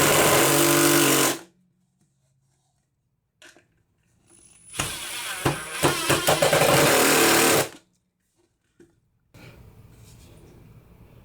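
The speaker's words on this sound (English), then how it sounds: "Now to drill this in." A power drill drives a screw into a wooden block in loud bursts, with a longer whirring stretch in the middle that strains and surges, separated by near silence.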